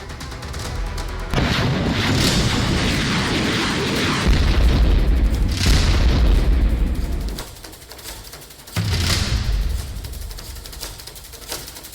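Missile strikes exploding in wartime news footage from Ukraine, a series of loud, deep booms and blasts with rumbling aftermath, several heavy impacts spaced across the stretch and no talk over them.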